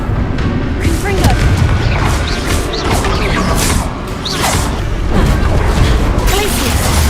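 Confringo blast spell explosions in Hogwarts Legacy, a continuous barrage of booms, crashes and whooshes from combat magic, loud and dense throughout, with a voice speaking over it.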